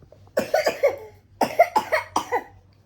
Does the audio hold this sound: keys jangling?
no